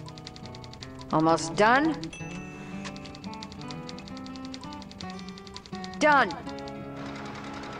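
A typewriter in the video game Thimbleweed Park clacks in a rapid run of small keystrokes beneath game music, with a voice speaking briefly over it.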